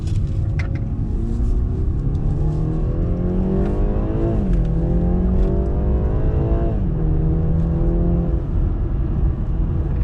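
A BMW 330i G20 in sports mode with sport manual shifting accelerates hard along a twisty mountain road, its engine note rising steadily through the revs, then dipping with gear changes before climbing again, loud and continuous with no talking.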